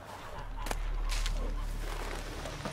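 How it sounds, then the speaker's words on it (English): A goose in the video game The Witcher 3 honks a few times, short and fairly faint, over a low rumbling background. "It's just a goose."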